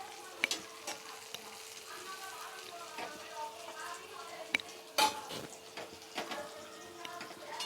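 Sesame fritters sizzle in oil in a non-stick pan, a continuous soft frying crackle broken by the scrape of a utensil and a few sharp clinks against the pan.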